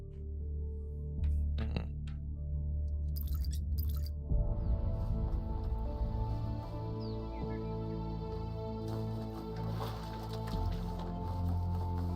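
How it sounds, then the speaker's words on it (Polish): Wet squelching and sputtering squirts from a squeezed ketchup bottle, with a low hum and tonal background underneath. "Przepraszam za odgłosy keczupu, w razie jak ktoś słyszał."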